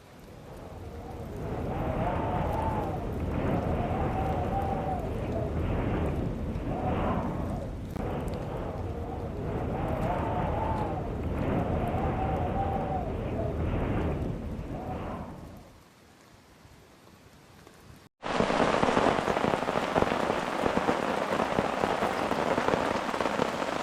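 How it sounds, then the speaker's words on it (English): Heavy rain pouring onto a hammock in woodland at Wildcat Hollow, Burr Oak State Park, a dense continuous patter with rhythmic surges, dropping away briefly before a louder, harsher downpour roar takes over. "It's pouring down rain."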